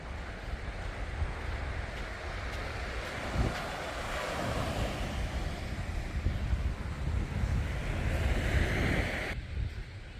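Surf and wind at Henley Beach near the jetty: a steady wash of waves under broadband wind rumble on the microphone, continuous and fairly faint, with no talk.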